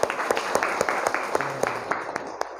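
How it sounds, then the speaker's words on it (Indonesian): Classroom applause for a student in an Indonesian school lesson, a small group clapping in a loose, uneven rhythm of distinct claps, moderately near, fading out after a couple of seconds. "Oke, beri tepuk tangan untuk Marja."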